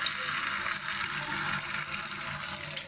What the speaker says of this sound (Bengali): তো এটারে আমি এখন তেলে ভাইজা নিব